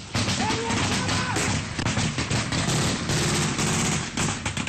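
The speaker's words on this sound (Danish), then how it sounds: "så bliver der skudt lige over hovedet på os." Gunfire cracks in rapid bursts over the heads of people sheltering by a clay wall, with rounds striking the wall in front of them. The reports are loud and dense, in a near-continuous barrage.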